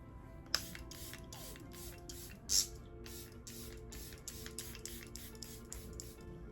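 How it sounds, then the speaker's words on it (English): Rapid series of short spray bursts from a makeup setting spray pump bottle, about a dozen quick spritzes in steady rhythm, close and fairly quiet. "And now we're gonna do another round of setting spray."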